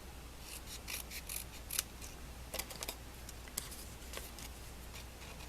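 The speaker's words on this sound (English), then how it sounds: "We're going to cut away on these partials" Scissors snip quietly along partial cut lines in a small paper craft piece, giving a series of crisp, irregular clicks and snips close by with brief pauses between them.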